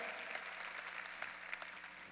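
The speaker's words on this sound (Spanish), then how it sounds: "démosle un aplauso al Señor" A church congregation claps together in praise during a worship service, a steady wash of many hands sustained for a couple of seconds, fairly quiet and distant.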